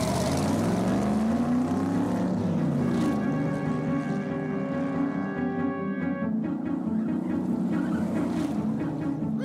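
A wind-up toy car driven by Charlie Bear revs with a steady motorized whine that swells and shifts in pitch, loud and close, with no voices over it.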